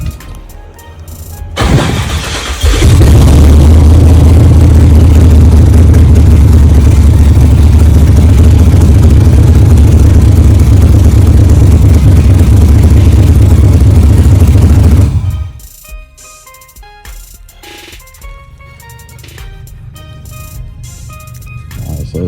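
An LS swap engine cranks briefly, then catches and roars loudly for about twelve seconds in a workshop before shutting off, leaving quieter clinks and shop noise behind.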